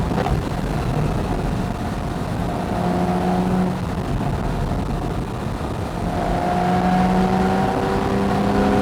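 A Porsche 911 Carrera S 991.1 in sport mode, its engine droning steadily from inside the cabin as gears drop, with a low burbling exhaust rising and falling under a continuous road roar.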